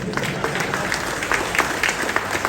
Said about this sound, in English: Yes, you are entitled for that applause